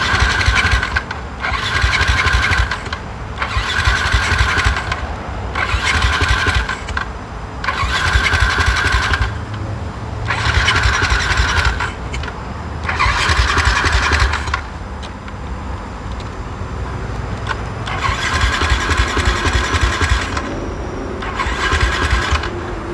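A Yamaha LC motorcycle engine, bored to 177cc with a TZM carburettor, cranks over and over without firing because the spark plug cap is off. The loud churning bursts come in a steady rhythm of repeated attempts, with no talking.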